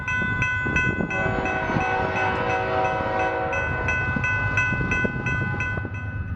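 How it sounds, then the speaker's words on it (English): A northbound BNSF grain freight train rolls past at Bushnell, coming off the Beardstown subdivision. A loud, sustained horn blast sounds over the rumble and rhythmic clatter of wheels on rail, close by. "see a northbound grain load rolling off the Beardstown subdivision"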